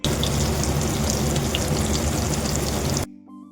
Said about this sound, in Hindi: उसके बाद मैंने पनीर को भी फ्राई करने के लिए डाल दिया है